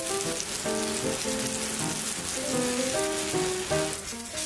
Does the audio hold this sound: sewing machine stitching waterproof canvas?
no